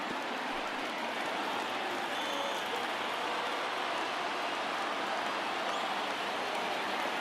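A college baseball stadium crowd of about 22,000 rises to its feet, a broad sustained roar of cheering and clapping that holds steady at a distance with no clear voices above it.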